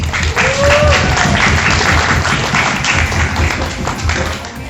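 Loud, dense applause from a gathered crowd at a cleanliness talk during a bicycle rally, a steady wash of clapping hands lasting the whole stretch with no pause.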